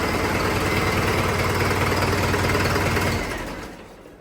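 A tractor engine idles with a deep, steady, throbbing rumble, then shuts down, its sound fading away over the last second.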